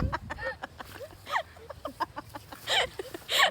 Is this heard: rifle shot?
no